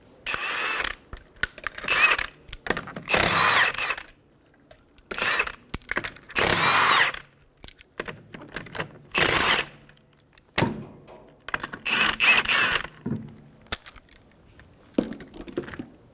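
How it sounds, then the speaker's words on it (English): A 21mm socket on a ratchet works the five lug nuts off a 2007-2011 Toyota Camry rear wheel, giving bursts of loud metallic ratcheting and clinking separated by short pauses, with no talk. "Using a 21mm socket, remove the 5 lug nuts."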